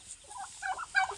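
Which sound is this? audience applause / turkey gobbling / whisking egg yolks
turkey gobbling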